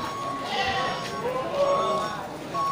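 A large black billy goat bleats at a quiet goat market, with other sheep or goat calls and background chatter nearby.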